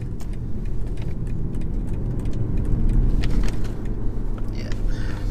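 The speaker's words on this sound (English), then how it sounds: "this is a really fun car to drive for a 2-litre diesel 5 series" A 2020 BMW 520d Estate with a 2-litre diesel engine drives along a road, heard as a steady, loud cabin rumble of engine and road noise that swells slightly midway, with no talk.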